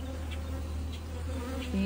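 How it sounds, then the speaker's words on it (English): Angry honey bees at an open hive during an inspection, a continuous dense buzzing swarm close around with individual bees droning past, steady and unbroken. "These bees are angry."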